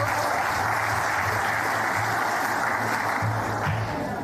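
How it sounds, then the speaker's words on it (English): Sustained applause fills the hall at the NT Sports Awards 2025, a steady, unbroken wash of clapping over a low hum, with no talking on top. "So let's welcome Mitch back up with a huge round of applause"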